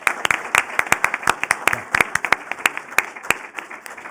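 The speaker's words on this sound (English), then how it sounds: "and a big applause for that." Applause rises from a conference audience for Latin American leaders, a steady run of sharp, fairly close hand claps at moderate loudness with no talking over it.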